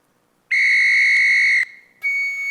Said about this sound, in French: Donc vous entendez un peu la rugosité du sifflet.